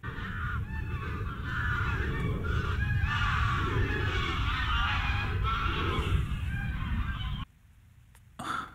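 A fox screams at night in woodland in Delamere Forest, a loud, sustained run of harsh, honking calls lasting several seconds before breaking off into near silence, with a brief faint sound after.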